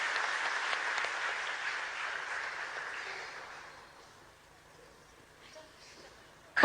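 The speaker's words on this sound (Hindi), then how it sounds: "हम तो ताली बजा के एक बार गुरु माँ का फिर स्वागत करें" An audience at a government event for daughters in Madhya Pradesh claps loudly, and the applause fades away over several seconds into near silence.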